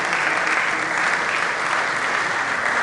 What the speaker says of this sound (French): on va l'inviter, sous vos applaudissements s'il vous plaît